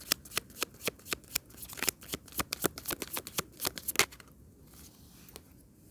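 Tarot cards are shuffled briskly, giving a rapid run of crisp riffling snaps close by that stops abruptly, leaving quiet room tone.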